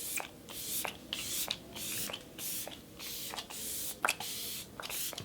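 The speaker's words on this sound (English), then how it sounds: "So I'm gonna go ahead and spray this all over to melt all the powders in." Repeated short hissing bursts of a fine mist spray, about ten quick pumps in an uneven rhythm, close and fairly loud.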